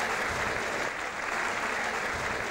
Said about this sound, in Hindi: तो एक बार फिर गुप्ता जी के लिए सबसे ज़्यादा ताली बजाएं।